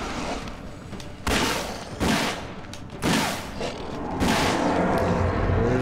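Gunshots in the survival horror video game Alone in the Dark, several loud sharp blasts spaced about a second apart over a noisy background, with no talking.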